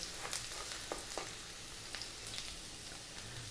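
Garlic and ginger sizzle in hot oil for fried rice, a soft, continuous crackling fry with scattered small pops, faint and steady throughout.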